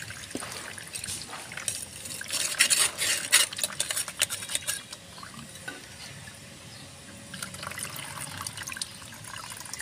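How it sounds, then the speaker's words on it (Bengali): Onion-peel soaking liquid strained through a sieve into a bucket, made as a rooftop-garden fertilizer for bitter gourd plants, with close trickling and splashing water alongside clinks of utensils. "তো এটা আমি এবার ছেঁকনির দ্বারায় পেঁয়াজের যে রসটা এটা আমি একটু ছেঁকে নেব"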